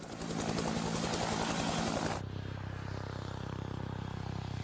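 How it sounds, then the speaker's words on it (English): A helicopter's main and tail rotors produce a rapid, loud, close blade chop that cuts off abruptly to a quieter steady engine hum, with no voices. "Often the first thing you hear from a helicopter is the sound of the wake from the main rotor hitting the wake from the tail rotor."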